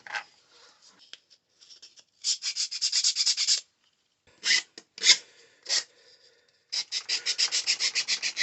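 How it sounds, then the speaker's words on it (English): Hand file rasping against a plastic battery tray on a Traxxas Rustler 4x4 RC car, in quick rhythmic strokes grouped into several bursts with pauses, close and clear, with no talking. "if you don't have a Dremel, you can just use a file"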